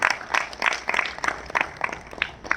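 An audience at a Hamara Nara Bhaichara Mission stage event claps for a minister's welcome, a thinner spread of individual hand claps that patter unevenly and close by with no voices over them.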